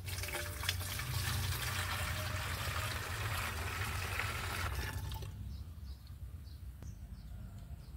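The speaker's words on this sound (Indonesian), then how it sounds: "sekarang kita masukkan air" Water being poured into a fertilizer container in a garden: a steady, close, rushing pour that stops abruptly partway through, leaving faint drips and soft outdoor background.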